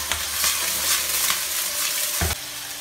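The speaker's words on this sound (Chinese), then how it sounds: "给它翻炒一下，把上面水汽给它煸干。" Chicken feet sizzle and hiss loudly in a hot wok while being stir-fried, the sizzle swelling with each toss, ending in a sudden burst as liquid hits the pan.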